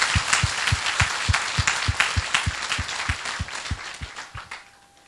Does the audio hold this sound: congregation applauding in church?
yes